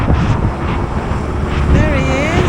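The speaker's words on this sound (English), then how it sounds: "It's very windy, bottles blowing away" Strong wind gusting along an open waterfront in Veracruz, Mexico, roaring steadily across the microphone with rumbling buffeting, loud and continuous, while a person speaks underneath.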